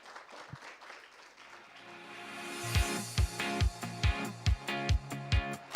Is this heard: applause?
yes